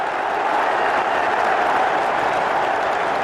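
A large stadium crowd applauds and cheers in a steady, dense roar of clapping that stays loud throughout.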